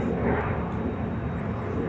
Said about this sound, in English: This should be a Bombardier Challenger 300.